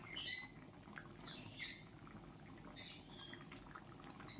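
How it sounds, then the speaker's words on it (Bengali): A pet bird in a home kitchen squawks three times in the background while chicken curry cooks, each short, bright call standing out over a steady low kitchen rumble. "রান্নার সময় আমার ব্যাকগ্রাউন্ডে যে পাখির আওয়াজ পাচ্ছ, ওটা আমার ঘরের পোষা পাখি"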